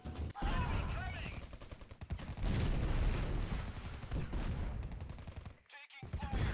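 Gunfire in the Art of War 3 strategy game, on a desert battle map: dense bursts of rapid shots and machine-gun fire with booms, loud and continuous, while game voice announcements play over it.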